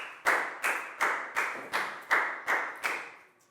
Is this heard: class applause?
yes